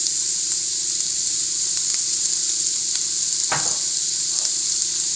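Beans roasting in a pan give a steady, close sizzle that fills the clip, with one brief louder burst of crackle near the end and no talking.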